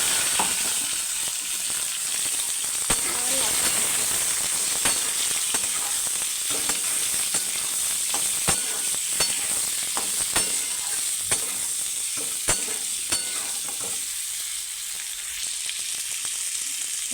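Potatoes sizzle in hot spiced oil in a pan, a steady close frying hiss broken by scattered clicks and scrapes of stirring.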